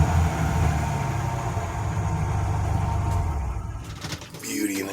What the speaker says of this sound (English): Got a little bit of a exhaust leak there.